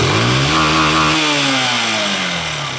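A fuel-injected Honda Titan 150 motorcycle that cannot reach 100 km/h revs loudly up close, its buzzing engine note rising and then sliding down as the throttle eases.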